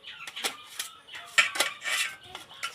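A knife cuts green chillies into pieces in a kitchen, giving a series of sharp, uneven taps and clicks against a board, close and fairly quiet, with no talk.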